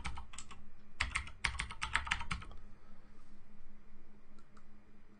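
Someone types a password on a computer keyboard: a quick burst of crisp key clicks, then a few sparse taps trailing off into quiet room noise.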